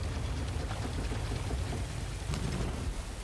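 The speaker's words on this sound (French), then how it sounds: "il y a cette putain de pluie, là, qui tombe du plafond" Steady rain falls from a ceiling inside the Star Wars Jedi: Fallen Order video game, a dense continuous hiss of drops with no talk over it.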